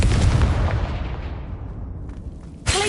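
A Confringo fire spell explodes in Hogwarts Legacy with a loud, deep boom that rumbles and fades over about two seconds, followed by a sharp crack near the end.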